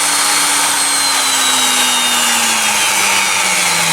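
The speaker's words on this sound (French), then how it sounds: "Et je peux pratiquement descendre à zéro, mais c'est pas très bon pour la perceuse" An electric drill runs steadily at low speed through a 2000 W triac speed controller, giving a loud, continuous whirring roar close by, its motor pitch sliding slowly downward as it slows, with no talking.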